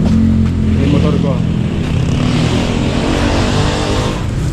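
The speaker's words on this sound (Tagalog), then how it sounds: "Yung motor ko." A motorcycle engine idles and revs loudly up close at a hot outdoor pet market, a steady dense rumble throughout with speech tags but no clear words.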